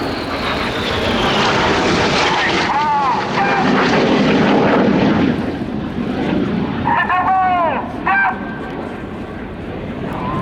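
RAF Red Arrows jet aircraft at the Royal International Air Tattoo air show, a loud roaring pass overhead that fades, then more sweeping jet tones, under a commentator's talk.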